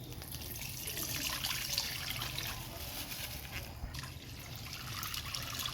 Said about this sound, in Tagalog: next natin lalagay ang ating pangalawang gata. Salain.